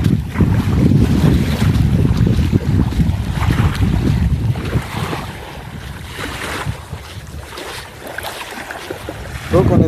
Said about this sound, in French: Très agréable ce bruit de vagues.